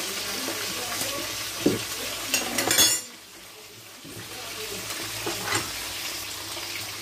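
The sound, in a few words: oil being poured into a pan for cooking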